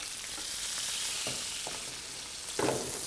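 Lobster with its skin on frying in oil in a pan, a steady close sizzle running throughout, with a few soft stirring knocks and no voices.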